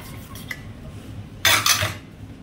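A spoon beats a yogurt and sugar mixture in a bowl, giving a quiet clink early on and then a brief burst of rapid, scraping metal-on-bowl strokes up close.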